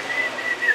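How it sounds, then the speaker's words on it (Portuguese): A car with an engine fault gives off a thin, high whistle in several short bursts over a faint steady hum. "o carro estava a assobiar, estava a bater"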